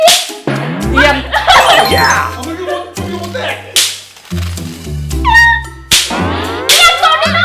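A cat meows repeatedly in drawn-out rising and falling cries, loud and close, over a busy mix of other sounds.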